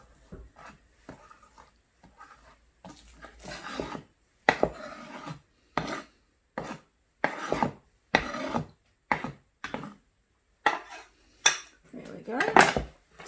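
Spatula or spoon scraping and stirring leftover vegetables and rice in a pan, a run of short scraping strokes that grow busier and louder toward the end, with no talking.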